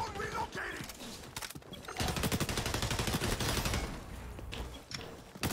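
AK rifle fire in a first-person shooter game, rapid automatic bursts of close, loud gunshots in a fast steady rhythm, with brief pauses between strings and talk underneath.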